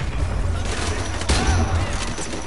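Rapid bursts of AK rifle fire crackle through a firefight in Call of Duty: Modern Warfare 2 Campaign Remastered, dense and loud across the whole moment, with a sharper booming hit midway and no talk over it.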